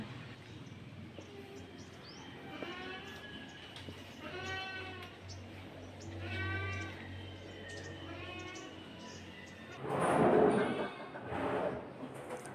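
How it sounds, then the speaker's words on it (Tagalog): A goat bleats behind a house in several wavering cries spaced a few seconds apart, moderately near, over a low steady hum with some background noise. "Maingay yung kambing sa likod mga wow, yung sa kusina pag nag-iisa siya."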